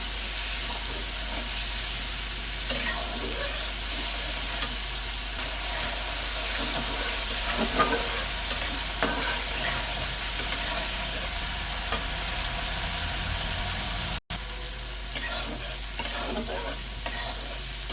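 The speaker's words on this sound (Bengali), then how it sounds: "জল দিয়ে যে মশলাটা গুলে নিয়েছি, এবার এই তেলের মধ্যে দিয়ে দেব, আর দিয়ে দেবো স্বাদ মতো লবণ।" Spice paste mixed with water sizzles and fries in hot oil with salt for a Bengali singhi fish curry, a steady close hiss with scraping stir strokes throughout and one brief dropout.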